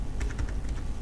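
Quick bursts of computer keyboard typing while registration details are entered, close, crisp and rapid keystrokes in an uneven rhythm with no voice.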